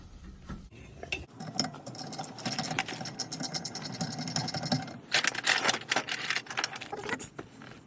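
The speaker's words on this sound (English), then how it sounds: "then I can use my ratchet" A ratchet works loose the rear brake caliper bolts on a Honda Jazz MK2, giving close, busy metallic clicking and clattering in irregular bursts that grow denser toward the end, with no talk.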